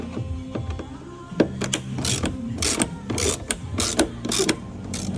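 T30 Torx screws come out of a Ford Mondeo headlamp in short bursts of ratcheting and whirring tool noise, several quick spins separated by brief pauses, close and moderately loud.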